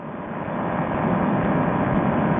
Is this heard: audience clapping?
no